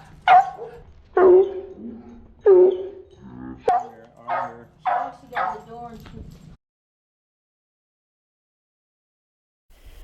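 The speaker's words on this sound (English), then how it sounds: "Barking." A dog barks about seven times in a quick, uneven series of sharp yips and woofs, close and loud, before the clip falls silent.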